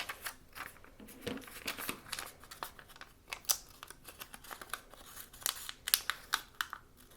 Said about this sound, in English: I'm going to take my scissors and cut out the leaf